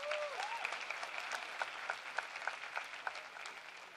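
Steady crowd applause for the mayor at a Delaware State University commencement, dense clapping filling the hall at an even level with a few sharper individual claps standing out.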